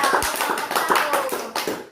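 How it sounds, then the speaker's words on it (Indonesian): Classroom clapping during a peer-teaching lesson, a short run of close, brisk hand claps in a quick steady rhythm, loud and fairly evenly spaced. "Nah, betul sekali, tepuk tangan untuk Aisyah."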